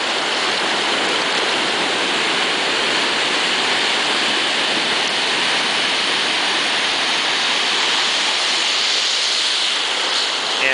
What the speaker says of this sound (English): There's some decent sized waves coming in here today.